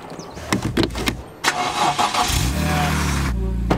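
A BMW M3 that needs a jump pack starts up nearby. A few hesitant clicks and cranking bursts come first, then the engine catches and settles into a steady, rumbling idle.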